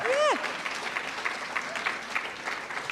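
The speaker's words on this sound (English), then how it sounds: "Wow, come on, a round of applause." Sustained audience applause at a pet awards ceremony fills the room evenly and fairly loudly. A voice speaks briefly over it at the start.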